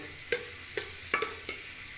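Onions frying in a pan until brown, for an aloo dal chana dish. A low, steady sizzle runs throughout, broken by four or five quick spoon strokes against the pan, with no voices.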